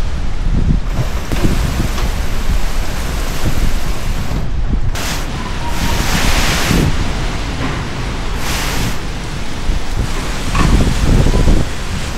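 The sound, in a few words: strong typhoon wind and rain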